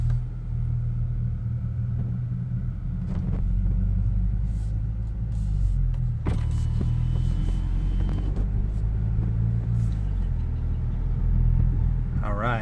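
A 2018-2020 Kia Stinger with an axle-back exhaust drones steadily from inside the cabin, a deep continuous low rumble with slight rises in engine pitch, and a person talks over it.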